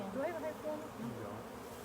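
Honey bees buzzing around an opened hive during an inspection: a steady, fairly quiet hum that continues throughout, with faint human voices in the background.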